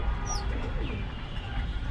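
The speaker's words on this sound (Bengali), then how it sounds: "এই গ্রিবাজের নর কবুতরটার কথা কি বলবো অসাধারণ একটা কবুতর" A male Giribaz pigeon in a loft coos close by in a short, low rumbling call. A brief higher chirp from another bird is heard near the start, and no voices are present.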